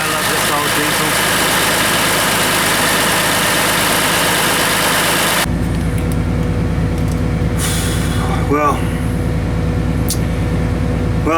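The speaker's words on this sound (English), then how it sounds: "I love this old diesel." An old Hino bus diesel engine idles after a starter replacement, a loud, steady rumble that continues the whole time and changes character partway through as the noise thins to a lower hum.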